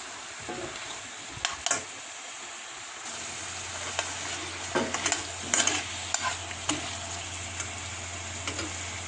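Celery with orange and lemon juice is stirred in a pan, with scraping spoon clicks over a steady soft sizzle and no voices.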